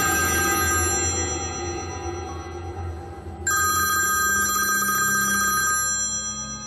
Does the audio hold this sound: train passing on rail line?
no